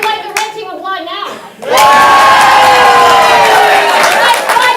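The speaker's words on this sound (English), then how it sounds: "If you'd like the red team, applaud now." Comedy-improv crowd erupting into loud cheers, hoots and clapping for the red team, starting after a brief quieter stretch of scattered voices, then a sustained, close, full-room roar.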